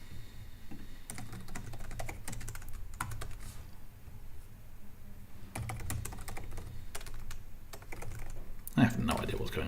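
Steady clattering keystrokes on a computer keyboard while coding a bot, close and continuous with brief pauses, a low hum underneath and a louder knock near the end.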